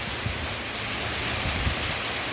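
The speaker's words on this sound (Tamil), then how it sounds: "இவ்வளோ மழை பெஞ்சிட்ருக்குது." Heavy rain falls steadily over a garden of potted plants, a dense, continuous hiss of downpour without pause.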